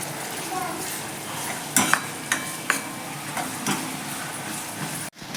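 A spoon stirs a spice mix of garlic-coriander paste, kitchen king masala and coriander powder in a pan for Rajasthani dal baati, with steady sizzling and a few sharp scrapes against the metal, close and alone.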